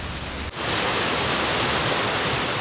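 A waterfall, flowing less strongly than usual, roars as a loud, continuous broadband rush of water, briefly dipping near the start and then holding steady; no voices are heard.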